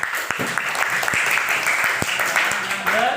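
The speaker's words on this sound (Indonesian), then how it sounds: "Benar. Tepuk tangan." Schoolchildren in a classroom clap together in a short, uneven round of applause with distinct sharp claps, while a teacher's voice and children's chatter carry on beneath and over it.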